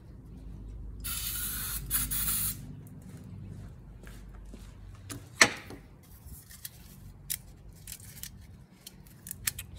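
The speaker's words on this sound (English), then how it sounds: "So I'm gonna spray this out with some carburetor cleaner." Carburetor cleaner sprayed from an aerosol can onto a hydraulic part of a Ford 1710 or 1700 tractor, one short loud hissing burst followed by quiet clicks and handling noises of the part and can.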